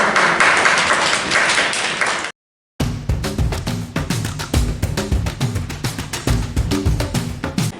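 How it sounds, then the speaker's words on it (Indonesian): A small group clapping hands during a group counseling session, with loud close claps. A brief dropout splits the clapping, and it then continues as rhythmic claps over a low accompanying tone. "Mari kita tepuk tangan untuk kalian"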